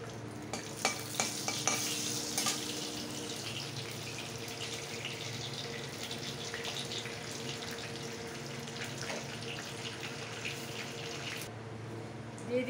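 Bay leaves and dried red chilies dropped into hot oil for a Bengali parwal dish, a steady sizzle and frying hiss with stirring scrapes and a few sharp spits near the start, lasting about twelve seconds.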